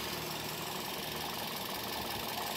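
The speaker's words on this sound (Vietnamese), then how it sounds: "mời các bác cảm nhận và nghe cái tiếng máy động cơ của mẫu xe Toyota Vios này 2015 các nhá" A 2015 Toyota Vios engine idling smoothly and quietly, a steady low hum with a faint even vibration running throughout, with no talk over it.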